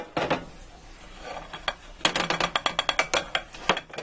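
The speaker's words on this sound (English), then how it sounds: "Now I'm going to take it off this little steel lifter." A breakfast meatloaf lifted off a small steel pan lifter, giving a string of sharp metallic clicks and scrapes, sparse at first and then quick and close together, with no one talking.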